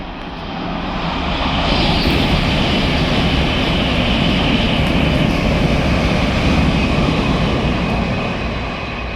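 A train passing through Alexandra Palace Station fills the air with a loud, steady broadband rumble that swells over the first two seconds and then holds close and constant to the end.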